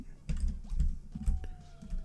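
Computer keyboard typing during a co-op platformer game session: uneven bursts of key clicks and thumps, fairly close, with a faint tone sliding through the background and no talking.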